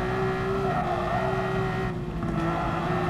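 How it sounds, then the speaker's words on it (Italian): Car engine in Gran Turismo Sport drones steadily with sustained revving tones throughout, loud and continuous, with no talking over it. "Si sente proprio la potenza del motore e il rollio dell'auto"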